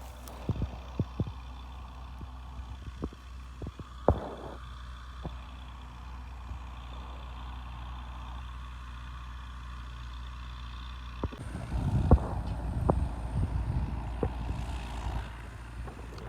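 A heavy tractor engine drones steadily in the distance while pulling a Lemken plough through boggy ground, with scattered knocks and clanks, then grows louder and rougher near the end as it labors closer.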